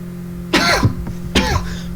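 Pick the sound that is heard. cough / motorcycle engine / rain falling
cough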